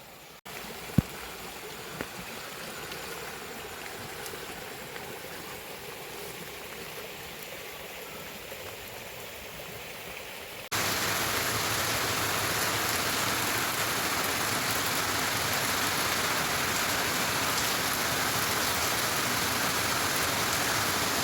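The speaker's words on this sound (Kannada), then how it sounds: "ತುಂಬ ಜೋರಾಗಿ ಮಳೆ ಬರ್ತಾ ಉಂಟು." Heavy rain falls during a monsoon-like downpour, at first as a faint, steady hiss and then abruptly much louder and denser, a continuous roar of rain on surfaces with no talking.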